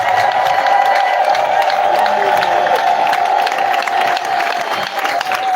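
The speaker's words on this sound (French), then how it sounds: "Acclamons très fort." Crowd applause and cheering at a memorial gathering honoring the deceased, a sustained loud wash of clapping with voices and whoops carrying through the whole stretch.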